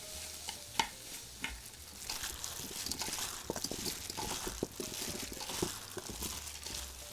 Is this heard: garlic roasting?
yes